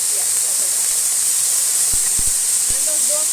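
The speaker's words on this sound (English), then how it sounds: "And just do a quick stir. It's called stir fry." Broccoli, string beans, chocho and celery stir-frying in a pan give off a steady, loud hiss and sizzle that runs throughout, with a few soft clinks of stirring underneath.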